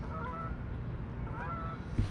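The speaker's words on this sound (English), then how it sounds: "Look, Canadian geese, let's change the subject. Big crane, big crane. Noisy geese." Canada geese honk a few times at a distance over a steady outdoor background hum beside a canal.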